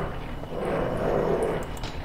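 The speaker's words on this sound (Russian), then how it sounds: "тут собака что-то кушает, я так понимаю" In Silent Hill 3, a dog eats and growls in a low, rumbling, continuous snarl amid a murky game ambience, fairly loud and steady without speech.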